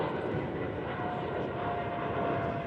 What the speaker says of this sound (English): the jet engines roar overhead here in Twickenham